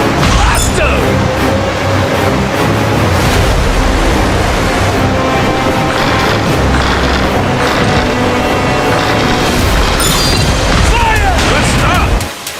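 Pirate ship cannon fire and explosions in the video game Like a Dragon: Pirate Yakuza, heavy booms and crashes over a constant roar of sea and battle, loud and dense throughout before cutting off at the end.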